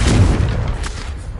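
A Confringo blasting spell explodes in a wizard video game, a loud, deep boom that hits at once and rumbles away within a second and a half.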